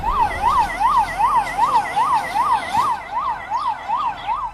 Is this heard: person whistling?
no